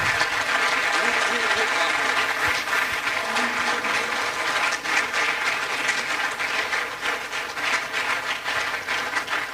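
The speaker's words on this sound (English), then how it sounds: "A resounding round of applause for Nana." A resounding round of applause from an audience at a quantity surveyors' annual event, dense and sustained across the whole stretch, with voices murmuring underneath.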